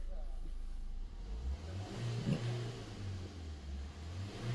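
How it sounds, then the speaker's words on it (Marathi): A Maruti Suzuki SX4 diesel car engine idles and revs up, a low, close rumble that rises in pitch, peaks briefly and settles back to a steady hum. "गाडी रेव केल्यानंतर फायरिंग अशी काही खराब वाटत नाही जी डिझेल गाड्यांची फायरिंग आहे सुझुकीची ती परफेक्ट वाटते"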